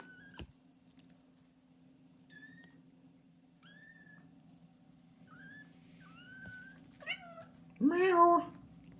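A kitten gives several short, high, soft meows spaced a second or two apart indoors, and a human voice loudly imitates a meow at the end.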